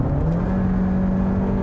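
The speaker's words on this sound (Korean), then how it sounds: "이 엔진 사운드가 상당히 좀 거칠게 실내로 들이친다는 점" Kia Sportage 1.6T turbo engine heard from inside the cabin while accelerating, a steady coarse droning hum with a sustained low tone, loud and continuous, no voices.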